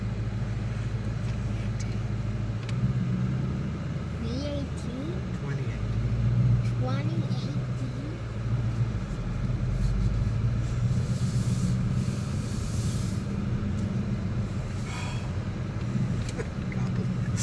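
2018 Ford Mustang GT rolling along on a test drive, a low steady cabin rumble of engine and road noise throughout, with people talking over it.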